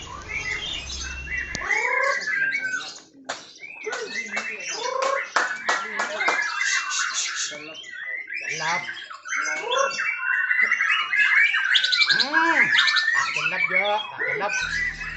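A white-rumped shama (murai batu) sings at a songbird contest, a bright, continuous run of whistles, trills and chirps up close, with other birds and faint crowd noise around it.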